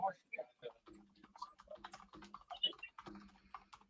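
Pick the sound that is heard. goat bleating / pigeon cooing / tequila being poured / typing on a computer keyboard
typing on a computer keyboard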